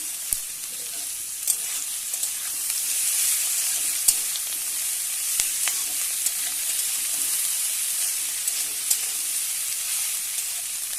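Banana stem and prawns cooking in a pan give a continuous bright sizzle and hiss, with occasional light clicks and taps as they are turned over, steady and close with no talking.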